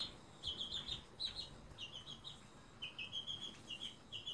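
Chickens cluck and chirp in short repeated bursts, fairly faint, over a quiet rustling background.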